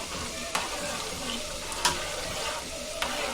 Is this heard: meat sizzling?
yes